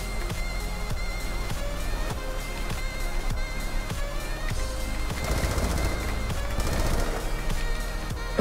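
Rapid bursts of video-game gunfire from Black Ops 2, sharp repeated shots in quick rhythm throughout, with denser overlapping fire near the end and no talk.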